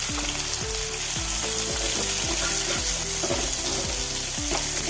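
Onions and mustard seeds fry in sunflower oil in a heavy uruli, making a loud, continuous, close sizzle and crackle with rhythmic low tonal sounds underneath.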